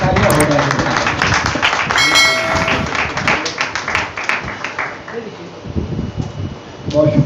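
An audience claps together at a 2024 Eid milan mushaira poetry gathering held at Dar e Arkam school, producing a dense, steady wash of applause that swells and tapers over several seconds.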